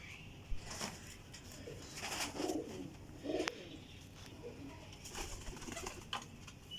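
Pigeons coo in soft, low repeated calls at a breeder's loft, with scattered wing flaps and faint chirps around them.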